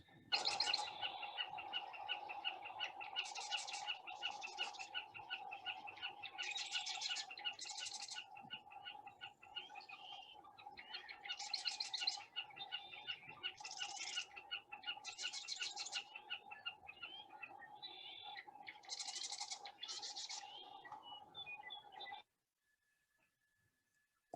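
Birds sing steadily from fence posts at a wildlife refuge, with repeated bright chirping phrases over a continuous chorus that runs loud and close for most of the stretch before stopping abruptly near the end.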